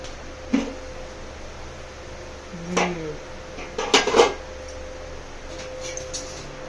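A ladle scrapes and clinks a few times against a cooking pot while stirring fish curry, faint and close over a steady low background hum.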